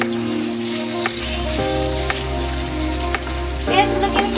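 One cup of onions frying in a pan for a fish curry, a steady broadband sizzle with a low hum underneath and a few brief stirring clicks and scrapes, close and continuous throughout.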